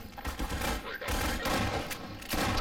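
Heavy blasts of combat in Half-Life 2, with dense, loud shotgun-style bursts crowding a short stretch and barely pausing between them.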